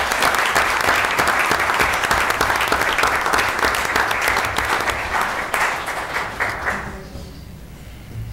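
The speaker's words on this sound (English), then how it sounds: "give them one more round of applause, please" A crowd claps at a city council meeting, a loud, dense round of applause that holds steady for several seconds and then fades quickly into a quieter room near the end.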